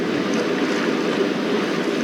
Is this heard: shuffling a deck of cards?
no